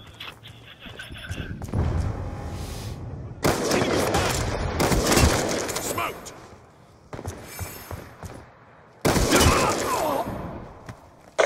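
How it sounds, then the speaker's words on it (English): A Death Machine rotary gun spinning up and firing in a multiplayer shooter, with long sustained bursts of rapid fire separated by brief gaps, loud and dense, with scattered other game sounds. "Death machine spinning up."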